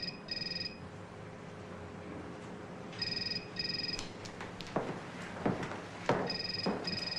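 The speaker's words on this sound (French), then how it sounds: "Est-ce qu'on peut arrêter ce téléphone, bordel de merde?" A telephone rings in repeated short electronic bursts of trilling tones, with pauses between them, over a quiet room with some faint rustling and knocks.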